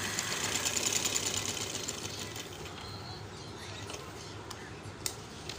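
A sewing machine runs steadily as it stitches net strips onto a garment sleeve over a newspaper backing, its stitch length set longer; a continuous close whirring hum that eases slightly after the first couple of seconds, with no talk.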